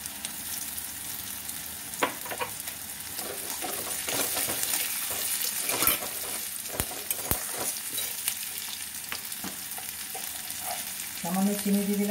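Chopped onions salted in a pan for a green jackfruit kofta curry give off a soft, continuous frying hiss. A few sharp clinks break in now and then, and no one speaks.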